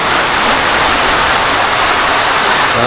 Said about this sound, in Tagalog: Kita nyo, ang lakasan ng ulan, no?